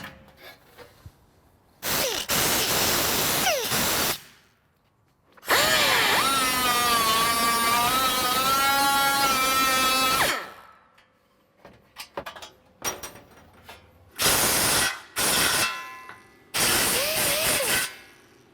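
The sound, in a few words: grinder grinding off rust inhibitor on car panel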